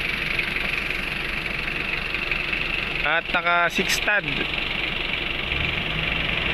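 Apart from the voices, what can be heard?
Isuzu engine idling in a 4x2 Wrangler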